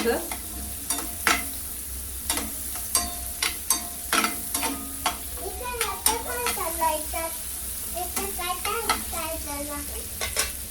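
Chopped onion frying in butter on the stove, a steady sizzle under repeated close scrapes and clicks of a spoon stirring in the pan, with a voice speaking faintly in the background.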